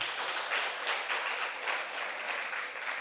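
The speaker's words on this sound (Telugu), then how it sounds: "ఇంత అద్భుతంగా పత్రిజీ గారు చెప్తే చప్పట్లే కొట్టరేంటారా బాబు?" An audience at a Buddha Pournami meditation gathering claps, giving a dense, even wash of applause for about three seconds with no talk over it.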